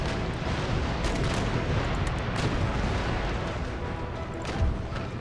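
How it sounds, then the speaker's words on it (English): Warship cannons fire chain shot in a naval battle in Empire: Total War, making a continuous, heavy, booming roar of overlapping blasts at a steady volume. "Let's keep them firing chain shots."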